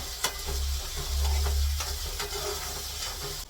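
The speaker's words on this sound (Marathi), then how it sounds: "कांदा पूर्णपणे चांगला पोळला पाहिजे. मीडियम गॅसवर मी ठेवणार आहे त्याला." Onions with a little salt frying in a pan over a medium gas flame, a close, steady sizzle with a few sharp knocks and scrapes of a spoon against the pan.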